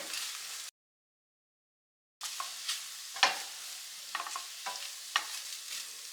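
Egg and potato fry being stirred in a pan, with soft sizzling broken by a brief silence, then a series of scraping, clacking strokes of the spoon against the pan.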